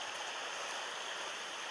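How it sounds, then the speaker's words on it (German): The Kirnitzsch stream babbles over rocks in a soft, continuous, even wash of water, faint and uninterrupted with no voices. "Zieht sich eine ganze Weile noch hin, was hier so schön plätschert."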